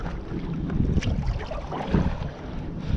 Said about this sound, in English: now the wind is against me a little bit, so that's hindering it